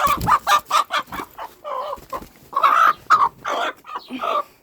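A broody hen clucks repeatedly in short, agitated bursts close by while being placed onto her eggs, with some louder squawking calls in between.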